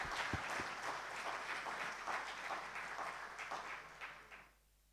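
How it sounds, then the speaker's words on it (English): Audience at a banking summit in Pakistan applauds with dense, sustained clapping that stays even for about four seconds and then fades out quickly to quiet. "I do think we should give them a round of applause for their contribution."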